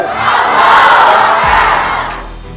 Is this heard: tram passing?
no